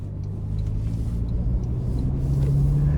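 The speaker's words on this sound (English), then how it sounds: "I do feel like I have very good control of the SUV, just coming around corners and things of that nature" Inside a 2025 Toyota Land Cruiser SUV with the i-Force Max engine while it drives around corners, a steady low engine rumble and road noise hold throughout, with a faint rising hum near the end.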